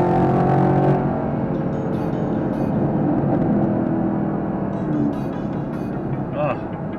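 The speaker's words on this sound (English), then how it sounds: "that LT1 under the hood, producing 455 foot-pounds of torque and 455 horsepower" A Chevrolet Camaro SS with its LT1 V8 hums low while driving, the engine loudest at first and then sitting under someone talking for the rest of the ride.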